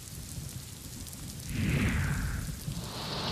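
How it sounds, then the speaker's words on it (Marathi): Heavy monsoon rain pours down in Sindhudurg district, a dense, steady hiss that swells briefly partway through, with no voices. "सिंधुदुर्ग जिल्ह्यामध्ये मुसळधार पावसाने हजेरी लावली आहे"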